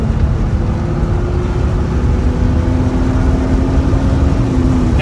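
Heard from inside the cabin, the inline-six engine of a 1994 Mercedes-Benz sedan pulls hard on a back road, giving a loud, steady drone with a slowly climbing tone and no talking.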